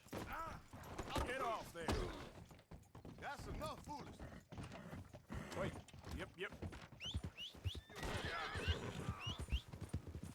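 A horse in the Red Dead Redemption 2 video game whinnies several times and its hooves clop, with music and someone speaking over the game sounds throughout.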